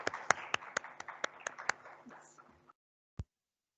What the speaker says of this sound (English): So big clap for this.